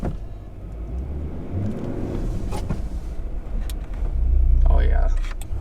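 A 2021 Nissan Titan XD pickup with a gas 5.6-liter V8 and 9-speed transmission pulls forward while towing a trailer, its engine rumbling low and building louder near the end as the truck moves off.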